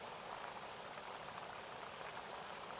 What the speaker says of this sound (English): The sound of the stream bubbling along the bank